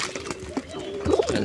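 Pigeons coo softly nearby in a brief burst of low, throaty calls, with a louder coo toward the end over a faint background.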